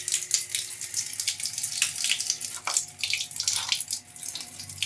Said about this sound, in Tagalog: Ayun, tumatakbo yung tubig.